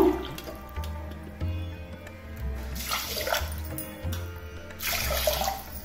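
Water pours from a vessel into soaked rice in a pressure cooker pot, a steady close splashing with a brief pause before the pouring resumes.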